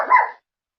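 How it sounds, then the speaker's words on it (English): A single short, loud bark from a nearby dog, cut off sharply and followed by silence. "sorry about my dog, anytime somebody comes in."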